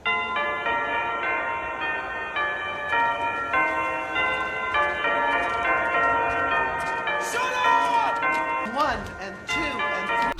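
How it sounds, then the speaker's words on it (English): Church bells ringing in a TV show, a sustained pealing of overlapping tones that carries on with a voice speaking over part of it. "the bells should only ring maybe twice a day"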